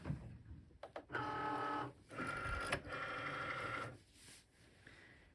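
A Cricut Maker cutting regular green vinyl on a light grip mat, a close motorized whir in several back-and-forth runs with short pauses and small clicks between, no talking.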